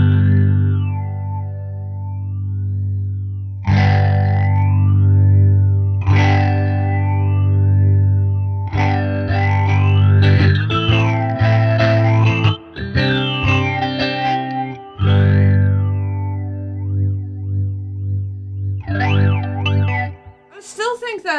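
Electric guitar through a Catalinbread Many Worlds phaser pedal, loud sustained chords and notes with sweeping, swirling phase modulation and strong feedback, played alone.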